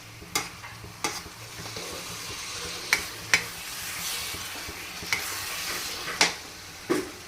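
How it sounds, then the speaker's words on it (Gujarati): Coconut barfi mixture stirred as it cooks in ghee in a pan, with a steady soft sizzle and repeated scraping strokes of a spoon against the pan. "બસ હવે આને થોડીક વાર ચડવા દેશું, ઘીની અંદર રંધાવા દેશું."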